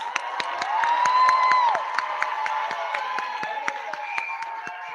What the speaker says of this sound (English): Let's give our graduate another hand of applause.